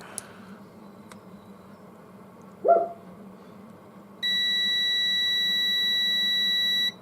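A multimeter set to continuity, probing a capacitor in a 500 W mini heater, gives one steady, loud electronic beep lasting under three seconds, after a brief click and soft knock.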